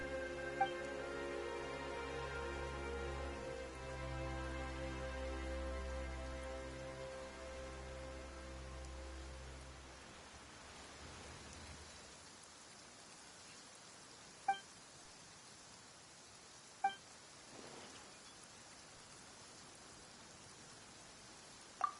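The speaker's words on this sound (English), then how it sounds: "Why is it raining all of a sudden?" Rain falls in the video game Genshin Impact: a steady, soft hiss takes over once the musical tones fade midway, with a few sharp isolated clicks scattered through the later part.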